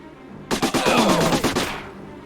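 Submachine gun burst in the tactical video game Silent Storm, a rapid string of about ten loud shots lasting just over a second, followed by a fading echo.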